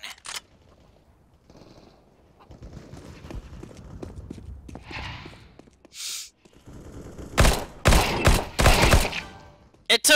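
Gunfire in the video game CS:GO, scattered single shots and quick clustered bursts, sparse early and denser and louder toward the end, with game movement sounds in between.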